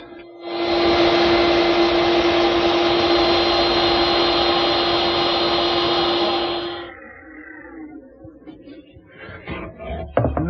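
A table-mounted router with a decorative bit, set against a fence, cuts into a wooden piece for a French side table, a loud steady high whine lasting about six seconds before winding down, followed by faint handling clatter.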